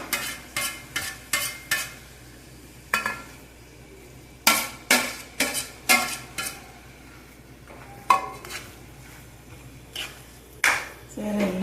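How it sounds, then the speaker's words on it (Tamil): Puttu being stirred and mixed in a pan with ghee and cashews, a spoon scraping and tapping the pan in repeated bursts of sharp clinks and rustling, fairly faint and close. "எல்லாம் சேர்த்து ஒன்றா கலந்துட்டுருக்கேன்"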